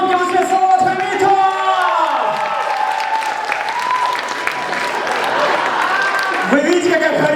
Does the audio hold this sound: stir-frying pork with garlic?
no